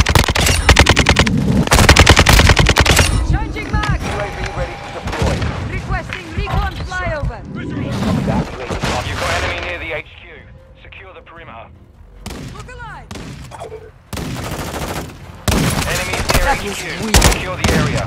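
Dense Call of Duty: Modern Warfare II gunfire crackles in rapid automatic bursts mixed with heavier booms, loud and near, thinning out mid-way before resuming in sharp clusters, with radio-style voice callouts over the battle.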